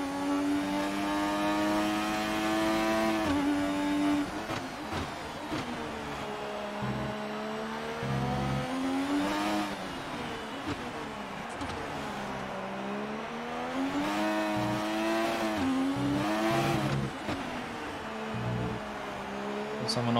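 A McLaren MP4/4 race car drives at Mexico in F1 2018, its engine droning with wavering pitch as it revs up and down through gear changes, while someone talks over it at intervals.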